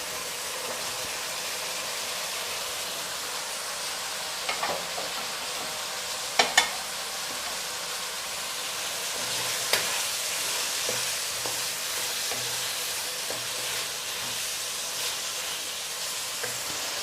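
Sliced carrots and capsicum sizzle in a hot pan with softened tomatoes for chicken chowmein, a steady close frying hiss with a few light clicks of stirring.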